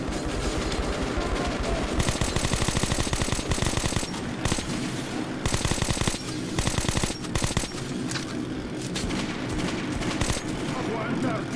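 Sustained machine gun fire in Metro: Last Light, a dense, loud chatter of rapid shots that runs the whole time in pulsing bursts.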